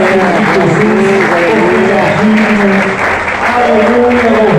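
Congregation applauding at an Easter Sunday church service, loud sustained clapping mixed with organ or keyboard tones and singing voices throughout.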